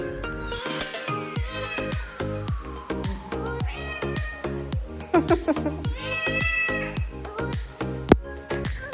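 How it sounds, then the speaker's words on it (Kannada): A cat at a resort in Chikkamagalur meows repeatedly and close by, its drawn-out calls rising and falling over steady rhythmic background music. "ಅಲ್ಲಿ ನೋಡಿದರೆ ಒಂದು ಕ್ಯೂಟಾಗಿರೋ ಕ್ಯಾಟ್ ಇತ್ತು."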